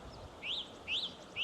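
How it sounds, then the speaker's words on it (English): A bird sings near a stream, repeating three thin rising-and-falling whistles, faint against a soft wash of water and breeze. "and bird song."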